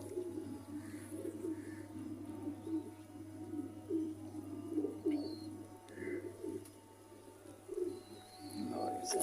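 Sialkoti pigeons coo in a low, steady murmur that runs throughout, with faint bird chirps scattered above and a constant low hum underneath.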